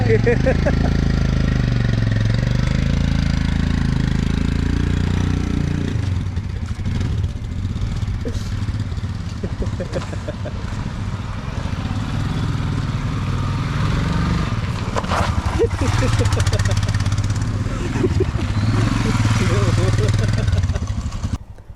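A motorcycle engine that had to be push-started because its self-starter failed runs steadily at idle through the whole stretch, loud and close, with voices talking over it at times.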